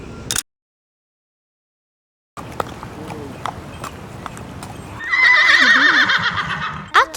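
Horses on a steep hill ride in Dali, China: a sharp whinny, then a few close hoof clip-clops, and at the end a loud, long neigh with overlapping whinnies, after a brief gap of silence.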